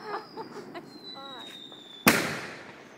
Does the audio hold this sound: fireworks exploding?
yes